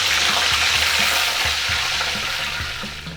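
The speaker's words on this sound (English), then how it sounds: "It's having a nice sizzle again." Crab deep-frying in hot oil for chilli crab, a steady dense sizzle with bubbling and faint stirring knocks, close and loud throughout.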